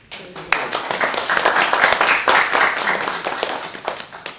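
A meeting audience for displaced homemakers claps steadily for a speaker, a close, dense patter of many hands that stays even for several seconds before easing off at the end.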